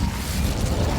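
The Incendio fire spell from Hogwarts Legacy is cast in a brief, loud, dense burst of roaring, crackling noise that lasts about a second.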